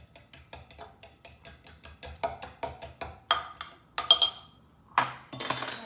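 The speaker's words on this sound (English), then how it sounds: "I'm going to whisk this up one more time" A whisk clinks rapidly against a bowl while a marinade is mixed, steady rhythmic metallic ticks close by, growing louder and more vigorous toward the end with a brief pause.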